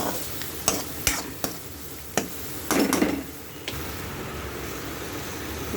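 Fresh coriander leaves are stirred into spicy poha seasoning in a pan. Several sharp spatula knocks and a short scraping burst sound over a low, steady sizzle, close by and unaccompanied by speech.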